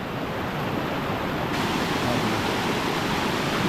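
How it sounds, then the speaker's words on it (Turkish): Steady, dense roar of waterfalls in the Bavarian Alps, broad and continuous rushing water with no breaks, loud and enveloping throughout. "Karşıda yine şelaleler. Her yer şelale, şelale ya."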